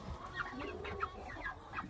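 Eight-week-old meat chickens cluck softly on a bedding of shavings, with several short clucks close together, quiet against low background noise.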